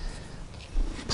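A house cat purring close by, a soft continuous low rumble lasting about a second with a slight swell near the end, no talk over it.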